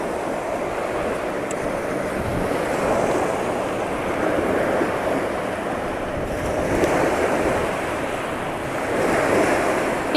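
Wind-driven waves break and wash steadily near the Prairie du Sac dam on the river, with a continuous roar of surf, gusty wind buffeting the microphone, and gentle swells rising and falling in loudness throughout.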